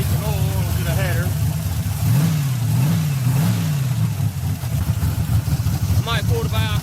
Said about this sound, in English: I might pull the valve covers, check them rockers though. They obviously loose. I hear them clattering.